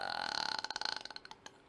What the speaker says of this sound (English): that was the burp that I talked about earlier on pre-stream that was stuck in my chest